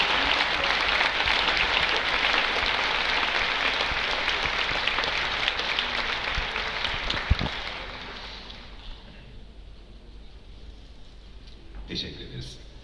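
Loud, dense audience applause from a large crowd at the İKSV music festival in Harbiye, Istanbul, sustained for several seconds, then fading to scattered clapping, with a voice speaking over the tail.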